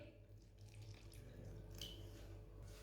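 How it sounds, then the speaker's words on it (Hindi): Water trickles and splashes softly into a bowl of egg pakora batter, a faint, continuous pouring sound with a low background hum and no talking. "पानी डाल लेंगे।"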